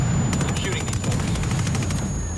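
Rapid gunfire in Ghost Recon Wildlands against cartel fighters, a steady run of sharp repeated shots across the whole moment, close and loud over low rumbling background, with a player's voice mixed in.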